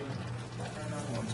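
Water pours in a steady splashing stream onto a soil sample held in a cylinder to mimic a heavy rainstorm, close and brief, running without a break.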